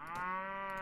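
Cattle lowing in the Warband game mod Warsword Conquest, a single sustained, loud moo held steadily across the whole short clip with no talk over it.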